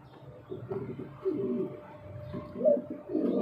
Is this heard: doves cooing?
yes